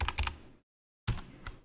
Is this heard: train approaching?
no